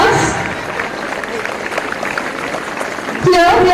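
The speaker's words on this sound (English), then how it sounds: "Thundering applause." Crowd applause at a school sports day as a chief guest, an Indian cricketer, is welcomed to the stage, a steady loud wash of clapping with some babble, ending in a brief electronic squeal.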